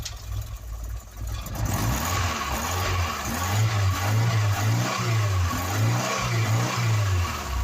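Engine of a Ford Cortina Mk3 estate running close by, a steady mid-pitched drone with a rhythmic pulsing throb that rises and falls, heard alone without talk.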